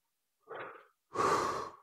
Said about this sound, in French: j'ai 2 inspirations pendant le roulement initial, donc je suis à l'arrière